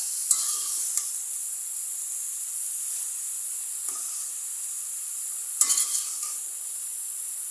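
Green beans and dried loitta fish sauté in a pan with chilli, salt and turmeric, giving a steady bright hiss with occasional stirring scrapes and a few sharper spatters, close and with no talking.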